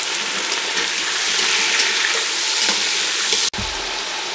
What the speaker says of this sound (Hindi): इसको इतना फ्राई करेंगे हम कि इसका कलर चेंज हो जाए